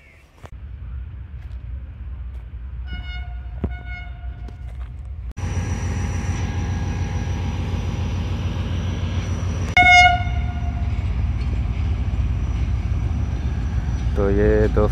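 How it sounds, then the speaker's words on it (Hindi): The Hazara Express, bound for Karachi, stands at platform one of Rohri station on Pakistan Railway. A steady diesel rumble and station din run throughout, and a loud horn blast sounds near the middle, with background voices audible. "आप देख सकते हैं हज़ारा एक्सप्रेस जो कराची जाने के लिए रोहड़ी स्टेशन पे प्लेटफार्म नंबर एक पर"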